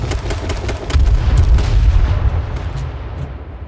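A grenade goes off in the video game H1Z1, a loud booming burst of game gunfire and blast noise that swells around the one-second mark and rumbles on for several seconds.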